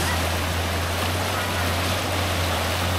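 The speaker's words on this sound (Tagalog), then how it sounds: "Lakas ng agos." The strong current of the clear Labi River in Nueva Ecija rushes steadily and loudly close by, a continuous broadband wash of flowing water with a low hum underneath.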